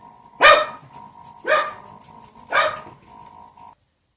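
A dog outdoors at around 7:30 in the morning gives three loud, evenly spaced barks, about a second apart, close and sharp with a faint steady tone beneath and quiet after.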